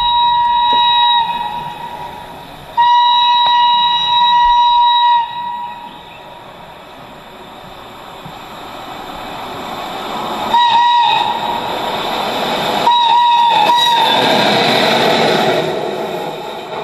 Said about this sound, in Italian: un giorno sente fischiare il treno